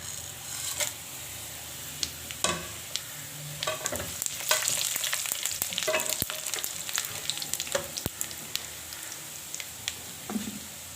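Spices stirred into fried onions for a pea pulao, with a soft constant sizzle in the pan and irregular scraping and clinking of a spoon against the metal, close up.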